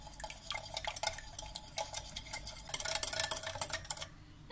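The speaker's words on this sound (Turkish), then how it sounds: "Ve bu malzemelerimi öncelikle bir karıştıracağım." Cookie dough ingredients with oil being stirred in a bowl, giving a steady run of close, busy scraping and clinking for about four seconds before it stops, with no talking.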